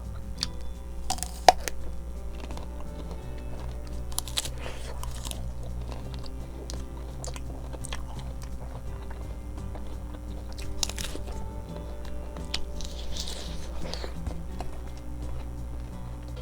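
A large apple jujube is bitten and chewed close to the mic, with crisp crunches and wet chewing that go on steadily, over a low, constant background hum.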